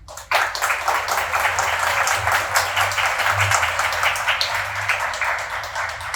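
An audience at a religious discourse gathering claps together, a dense steady burst of applause starting abruptly and continuing evenly for several seconds, moderately loud and close.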